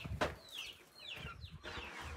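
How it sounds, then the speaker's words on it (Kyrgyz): Chickens cluck softly inside a backyard coop at a village house, several short rising calls spread over a couple of seconds, faint and fairly close, with no talking. "Тоок канасы."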